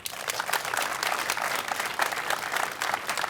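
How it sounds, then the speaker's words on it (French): Sustained applause from a congregation at a church celebration honouring a newly appointed apostolic nuncio, a dense, steady patter of many hands clapping together for about three seconds. "Vous pouvez applaudir."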